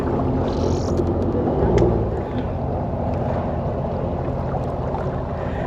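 A personal watercraft's jet ski engine rumbles steadily while floating on open water, a low continuous drone that swells briefly with a little throttle, then settles, with wind noise on the microphone.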